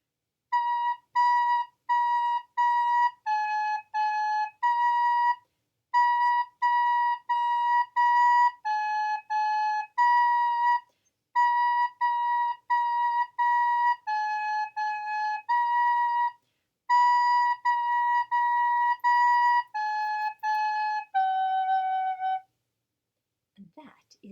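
A pure whistle-like tone plays the class practice song Bonnie B as an example melody, short repeated phrases of steady notes separated by brief gaps, clear and alone with no voices.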